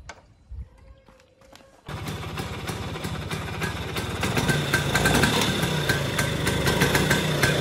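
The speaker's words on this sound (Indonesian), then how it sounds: "Kita akan coba tes untuk suara mesinnya." A Vespa scooter engine with a local CDI starts after a few quiet knocks and settles into a steady, fairly smooth idle close by, its putter growing slightly louder toward the end.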